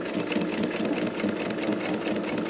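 A sewing machine runs steadily, stitching a BOC pocket flat against the bottom flap of a skydiving container, its rapid needle rhythm close and continuous with no talk.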